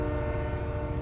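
A passing train in the video game Fortnite gives a loud, steady low rumble with a sustained tonal drone like a horn. The sound is close and continuous, with no talking.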